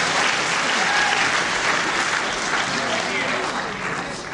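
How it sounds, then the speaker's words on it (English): A crowd at the Cliffs Pavilion in Westcliff-on-Sea applauds a wrestler, a dense, steady wash of clapping that stays loud throughout and eases off slightly at the end. "the very fair crowd here at the Cliffs Pavilion, West-Cliff-on-Sea, really giving Hasouni applause when he does something very well"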